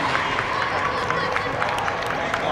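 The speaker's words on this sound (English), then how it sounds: "as you hear the crowd" A crowd at an 8-year-olds' youth football opening game cheers and roars steadily from a distance, a dense continuous wash of voices and clapping with rhythmic thumps.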